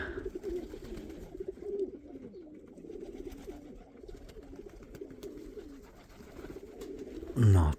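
Pigeons coo steadily in a loft kept by a hobby breeder, soft overlapping rolling calls forming a continuous low murmur close by, with a brief louder bump at the very end.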